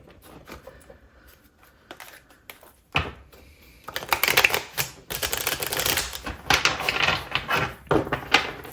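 Rapid clattering bursts of a deck being shuffled, starting sparse and growing denser and louder, close to the listener.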